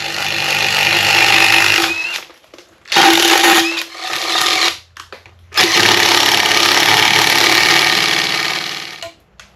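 A power drill whirs in loud sustained bursts, stopping briefly between runs, close by, boring holes while making a fishing rod holder.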